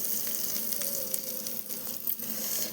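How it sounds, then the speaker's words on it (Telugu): Garlic sizzles steadily in hot oil in a tempering for ginger chutney, a close, continuous frying crackle with no talk. "ఎర్రగా వేగనిచ్చి వెల్లుల్లి గోల్డ్ కలర్లోకి వచ్చేంత వరకు వేపుకుందాము ఈ వెల్లుల్లి"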